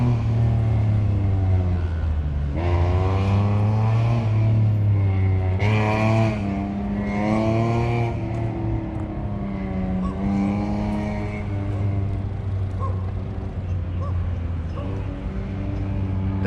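Autocross race car accelerating around a rain-soaked course, its engine note climbing and falling in repeated surges as it works through the turns, steady and fairly close throughout.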